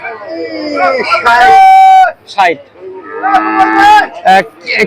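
A small red cow moos loudly at a busy cattle market, several long drawn-out calls close by with brief pauses between them, no speech over them.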